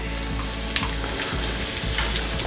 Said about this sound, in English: we're going to throw in our onions